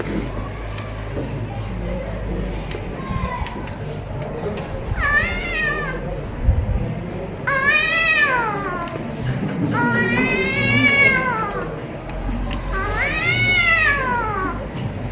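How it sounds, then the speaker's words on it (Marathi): Several cat meows, drawn-out and wavering, repeat over steady background noise, fairly close. "यानंतर मांजरीचा आवाज"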